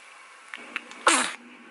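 A newborn baby girl gives a single short, sharp sneeze close by, after a couple of tiny faint breaths in an otherwise quiet room.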